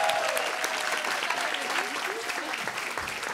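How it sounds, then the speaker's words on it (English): Conference audience at a youth session applauds the presenting groups, a dense, even burst of clapping with some faint voices mixed in. "let's actually take a minute to give all of the groups a huge round of applause"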